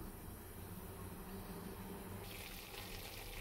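Broth poured into a pot of chicken tinola with lemongrass: a faint, continuous gushing of liquid that swells slightly partway through, with no other sounds.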